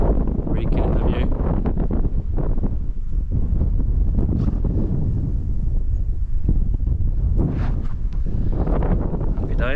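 Strong wind buffets the microphone outdoors on a hiking trail in Shropshire, loud, continuous low rumbling and gusty roaring throughout.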